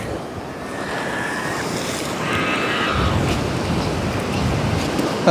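Sea waves wash and break against the shore along the Jaffna coast, a loud, continuous roar with gusts of wind buffeting the microphone and a surge building midway.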